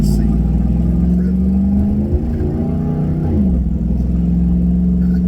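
Car engine accelerating while driving, a loud, close, steady hum that climbs in pitch, drops briefly at a shift and rises again.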